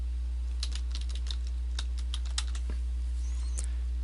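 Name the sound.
typing a domain name on a computer keyboard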